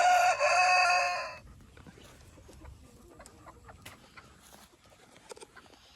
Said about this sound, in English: All these chickens are my buddies.